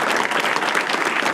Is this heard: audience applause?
yes